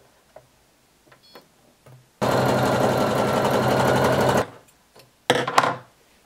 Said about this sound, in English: you're going to sew the sides together. And you're going to sew both side seams